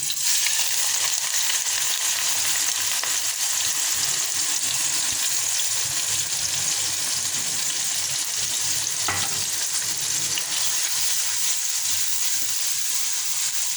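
Chopped onions dropped into about half a cup of hot oil in a kadhai, for besan khandliyan, hissing in a loud, continuous, even sizzle from start to finish, nearby and without any voice.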